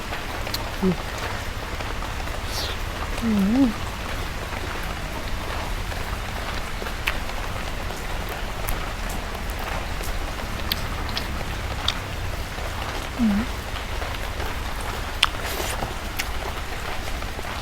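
Heavy rain falls steadily throughout, a continuous close hiss with a few faint knocks and soft sounds in the background.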